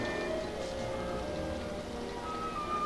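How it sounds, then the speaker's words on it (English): Light rain patters softly and steadily, a faint, continuous hiss outdoors with a few thin bird-like tones above it. "Just started to rain."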